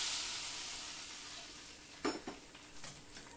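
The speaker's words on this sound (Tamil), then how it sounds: "நல்லா கடுகு வத்தல் கருவேப்பிலை போட்டு நல்லா மணக்க மணக்க தாளித்து சாம்பாரோடு சேர்த்துறது" Mustard seeds, dried red chillies and curry leaves sizzle in hot oil while being tempered for sambar: a faint, steady frying hiss, then a few sharper crackles and utensil clinks near the end.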